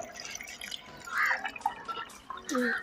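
Water is poured into a homemade plastic-bottle filter packed with layers, giving irregular gurgles and drips at close range, quiet but distinct, with brief pauses between splashes.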